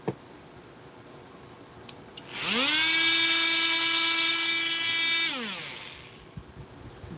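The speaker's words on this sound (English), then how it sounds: "Gotta cut that dowel." A battery power tool spins up, bites into a wooden dowel with a high, whining buzz for about three seconds, then winds down, with a few light clicks before and after.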